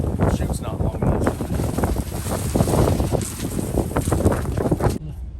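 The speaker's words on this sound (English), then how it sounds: "It's so windy" Strong wind buffets the microphone on a farm beside a new grain feed system, with steady low rumbling gusts and crackling bursts throughout that drop off abruptly near the end.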